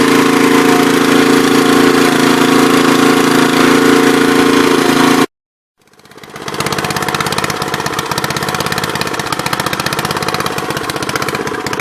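Loud small engine of a Troy-Bilt rototiller running steadily with a rapid chugging rhythm, briefly cutting out and then revving back up to a steady idle.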